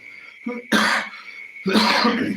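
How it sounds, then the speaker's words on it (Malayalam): Two harsh, forceful coughs close by, the second a little longer, with a brief throat sound just before the first. "ചുമ പിടിച്ചു"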